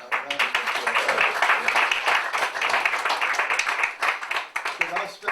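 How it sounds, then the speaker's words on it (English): An audience at a debate on Harriet Tubman and John Brown breaks into sustained applause, dense clapping that runs the whole stretch and dips briefly near the end. "Let's give him a round of applause."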